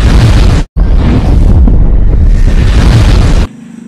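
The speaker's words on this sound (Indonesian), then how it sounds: "Ternyata bomnya berada di kapal satunya lagi dan bom tersebut akan meledak seberapa detik lagi" A bomb detonates on a ship in the 2007 film Next: a massive, roaring explosion fills the sound for several seconds, broken by a brief cut, then a sustained rumbling blast that drops away to a quieter tail.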